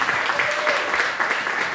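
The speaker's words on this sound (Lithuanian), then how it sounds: "Plojimai, plojimai" Audience clapping at the opening of a health-themed talk event in Lithuania, a steady, moderately loud wash of applause lasting the whole moment with no voices over it.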